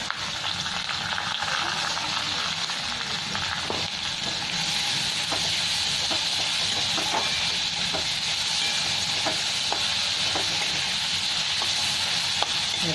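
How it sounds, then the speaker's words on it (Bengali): Steady sizzling and hissing of onions frying in a pan, a continuous crackle with occasional faint clinks from stirring. "পেঁয়াজটাকে একটু খুব ভালো করে ভেজে নেব।"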